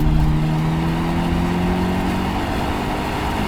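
A 2021 Hyundai Elantra N Line with a dual-clutch transmission accelerates hard, its engine note a loud, steady droning rise heard from inside the car, with no talking.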